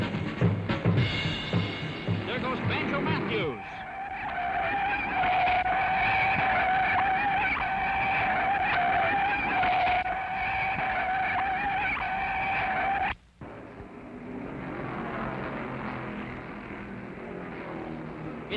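Race cars roar around Charlotte Motor Speedway during the 1961 World 600 NASCAR race, engines droning in a sustained high whine as packs pass, fading and swelling, with a brief cut before more distant engine noise continues.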